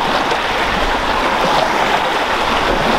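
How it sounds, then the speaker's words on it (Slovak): Choppy lake water sloshes and slaps against a fishing boat during carp fishing, a close, steady broadband wash with no voices, loud and unbroken for the whole stretch. "Obrovské vlny sú aj na vode."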